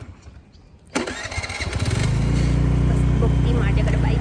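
Scooter engine starting after a quiet moment: a sudden crank and catch, then the motor settles into a steady low idle hum that stays loud and close.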